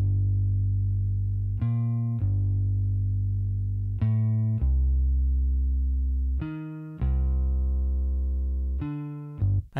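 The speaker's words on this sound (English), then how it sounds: "Next I just added this bass guitar that just sounds like this." Bass guitar in a vintage-style sample, downsampled and lo-fi, plays deep sustained notes broken by short plucky attacks roughly every two to three seconds, loud and alone with no talking.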